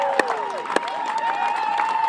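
Crowd cheering and clapping at the close of a Turks and Caicos versus Jamaica match, a steady wash of mid-level cheers with a couple of sharp claps near the start, and a sustained whistle-like tone running through.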